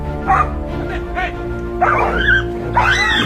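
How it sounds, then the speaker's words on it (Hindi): A dog barks, yips and whimpers in short repeated bursts while attacking a chained lion, the calls fairly close and loud over a steady low background hum. "इस वीडियो में आप देख सकते हैं कि कैसे एक कुत्ता एक बंधे हुए शेर पर हमले कर रहा है"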